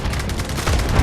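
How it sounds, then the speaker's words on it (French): Rapid gunfire in the Delta Force shooter game, a quick train of dense, evenly spaced shots with heavier low booms near the end, loud and close. "Je tire là-dedans pour essayer de couvrir."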